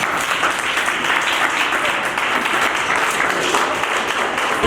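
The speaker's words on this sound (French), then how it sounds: "Applaudissez-vous." An audience applauds at the closing ceremony of an art exhibition in Côte d'Ivoire, dense sustained clapping filling the whole moment at a loud, even level.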